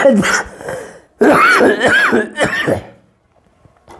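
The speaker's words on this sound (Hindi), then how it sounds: "खांसी हो गया" A person coughs and clears their throat in a few harsh, close bursts, then it falls quiet.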